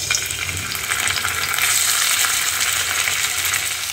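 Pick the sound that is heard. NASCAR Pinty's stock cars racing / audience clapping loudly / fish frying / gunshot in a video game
fish frying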